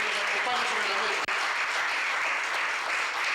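An audience at a SUTEP legal forum in Barranca in 2016 applauds strongly, a dense, continuous clatter of many hands that runs the whole time with only a momentary dip.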